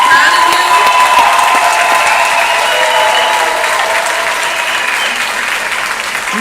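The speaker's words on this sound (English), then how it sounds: "Let's give them a round of applause." Audience applause at a school moving-up ceremony: dense, sustained clapping from a large crowd with a few cheers mixed in, loud and continuous, slowly tapering slightly toward the end.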